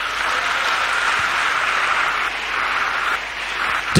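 A church congregation applauding for Jesus Christ, steady dense clapping from a large crowd that holds at an even level for several seconds without voices.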